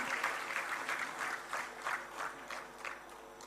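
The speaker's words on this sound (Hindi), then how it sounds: "उनके लिए भी एक बार जोरदार तालियां फिर से बता दीजिए।" A small crowd at an awards ceremony for meritorious students applauds at moderate distance, claps coming in uneven rhythmic bursts that swell and ease over a few seconds.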